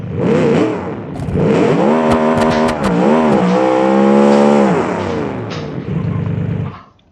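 A loud car engine revs hard and climbs through gears, with tire noise, sustained for several seconds before cutting off, in the BeamNG driving game.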